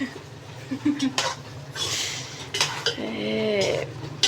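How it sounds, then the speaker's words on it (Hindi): Metal spoon clattering and scraping against a pot while tamarind is stirred, a few sharp clinks and knocks close by, with a voice speaking over it. "ये बाजी का हाथ है कि बाजी चम्मच मार रही है"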